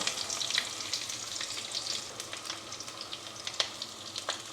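Urad dal and small onions sizzling in hot oil for a Kerala village-style rasam, a steady dense crackle with sharper pops and spatters scattered throughout, close and fairly loud, with no voices.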